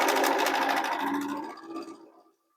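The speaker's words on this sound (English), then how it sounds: "I like to put the flying geese unit on the top as I'm sewing so that I can watch my needle go right through this intersection of these two stitch lines" A sewing machine stitches a flying geese quilt block in a steady, close, fast whirring run that slows and fades out near the end.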